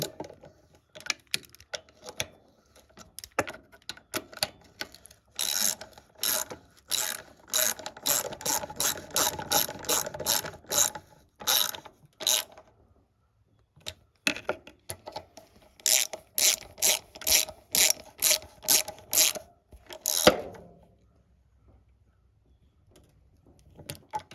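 A hand ratchet snugs bolts on the coils of a Craftsman riding mower, rattling out quick bursts of sharp clicks separated by short pauses, close and clear, with no talking.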